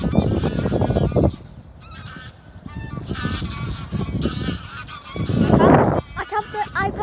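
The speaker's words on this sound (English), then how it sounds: "They're swans." Swans honking repeatedly in loud, overlapping calls that come in bursts, with a brief quieter stretch mid-way before the honking swells again close by.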